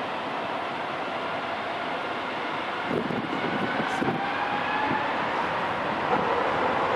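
A United Airlines Boeing 777-200ER jet taking off from runway 27 right, a broad, steady engine roar that holds loud throughout, swelling slightly as it builds, heard from a distance.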